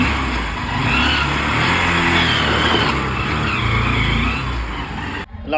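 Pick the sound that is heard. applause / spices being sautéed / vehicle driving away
vehicle driving away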